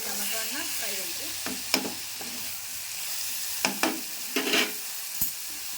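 Food frying in a pan: an even, quiet sizzle with occasional sharp taps and scrapes of a spoon, clustered toward the end.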